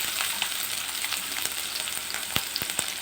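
Chopped onions hit a hot pan with curry leaves, giving a steady close sizzle with a few sharp pops and stirring clicks near the end, and no talking.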